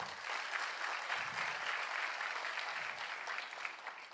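Applause from an audience at a payments seminar, a sustained, moderately soft patter of many hands clapping that holds steady for a few seconds with no speech on top.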